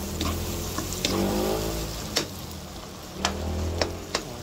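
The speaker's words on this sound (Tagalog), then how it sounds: "Halu-haluin na natin ng konti ang ating tolchas." Tomato and egg torchas sizzle steadily in a pan while being stirred, a close frying hiss broken by several sharp scraping taps of the spatula, with no talking.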